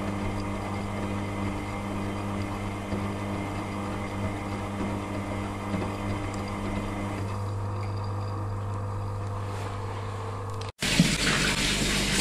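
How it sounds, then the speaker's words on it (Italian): A washing machine draws in water for the final stage of its wash cycle, a steady hiss and rush of filling water with a low hum, ending in a brief cut and a louder burst. "Carico acqua di fine lavaggio."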